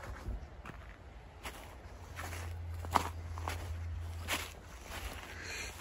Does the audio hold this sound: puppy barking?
no